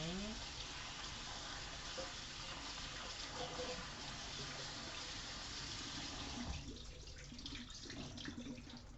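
Drained pasta shells tumble into a pot of roux-based mac and cheese sauce with bacon hot sauce and get stirred, making a continuous wet, sloshing, sizzling clatter that fades into softer stirring and scraping.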